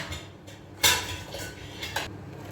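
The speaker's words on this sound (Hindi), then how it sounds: "स्ट्रेन करने के बाद उसके अंदर मैं थोड़ी सी बर्फ़ डालूँगी।" Ice cubes dropped into a strained sattu drink give two separate bright clinks against the container, over quiet kitchen background.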